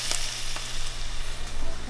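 Onions frying in a pan for a green beans and tomatoes dish, a steady broadband sizzle held at an even level for the whole stretch, with a few faint clicks of stirring and no talk over it.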